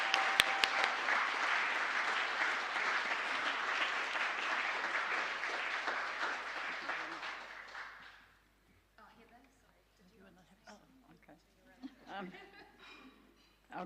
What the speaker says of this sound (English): Please can we have a round of applause for all of these wonderful supporters.